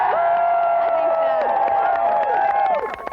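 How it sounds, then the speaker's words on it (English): Volleyball fans cheer and whoop in the stands at the finals of the 1995 AVP San Diego Open, a beach volleyball event, with steady crowd noise and shouting voices that fade near the end. "these guys are cheering on the hometown favorites"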